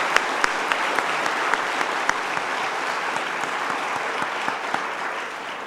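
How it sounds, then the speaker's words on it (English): A conference audience applauds steadily and continuously, with dense overlapping claps filling the room at a fairly loud, even level throughout, with no voices. "Please, let's show our gratitude with applause."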